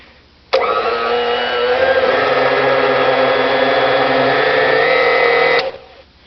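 A blender motor whirs steadily for about five seconds at high speed blending a cranberry mixture, loud and close, starting and stopping abruptly.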